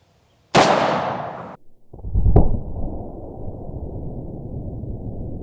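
A 1953 Smith & Wesson Pre Model 27 revolver with a 5-inch barrel fires a 158 grain semi-jacketed hollow point round at about 1,250 feet per second. One loud, close blast is followed by a sharp crack and a lingering echo.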